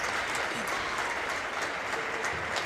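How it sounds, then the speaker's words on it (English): A basketball crowd applauds steadily for a player reaching 1,000 points, a dense, continuous wash of clapping filling the gym at even loudness throughout, with faint voices mixed into the crowd. "Round of applause for Will."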